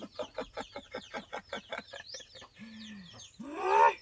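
A red junglefowl clucks in a quick, steady series of sharp notes, then gives a rising squawk, close and clear with no talking.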